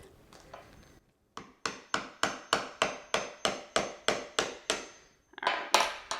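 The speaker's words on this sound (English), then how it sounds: "Use a hammer for that one." A hammer taps holes into a whole coconut during cold-process soap making: a steady series of about a dozen sharp, evenly spaced knocks, close and clear, with no talking.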